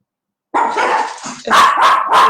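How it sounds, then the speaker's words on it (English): Several dogs bark close by, a sustained burst of overlapping barks followed by three sharp, loud yaps in quick succession. "There's my dogs reacting, you see."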